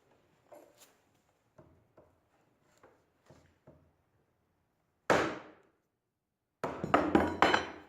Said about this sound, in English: I'm going to chop right about here and see if it goes through it.